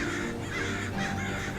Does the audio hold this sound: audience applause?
no